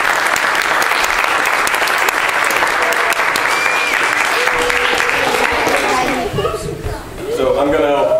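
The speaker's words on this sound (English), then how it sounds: "Please give me a round of applause." An audience claps steadily at a bear badge award ceremony, loud and sustained for about six seconds before briefly thinning out. A voice then begins speaking.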